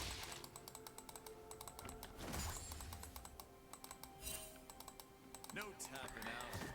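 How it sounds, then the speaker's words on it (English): Rapid, uneven clicking of fingers typing on a computer keyboard sits close by under a voice talking, with short pauses between flurries of keystrokes. "I was reading what you were typing"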